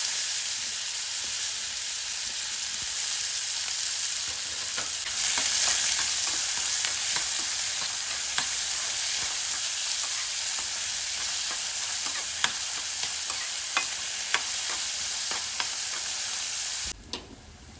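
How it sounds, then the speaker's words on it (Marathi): Onion and tomato sauté in hot oil, a steady close sizzle running throughout with frequent clicks and scrapes of a spoon stirring the pan, ending abruptly near the close. "तर कांदा टोमॅटो आहे ना चांगला परतून घेतलेला आहे मी तेलामध्ये"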